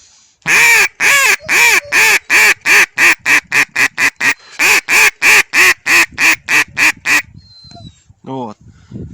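A duck call lure blown by a hunter in snowy, windy weather imitates insistent duck quacks: a loud, rapid run of about two dozen evenly spaced nasal quacks, followed by a short pause and a few faint, softer calls.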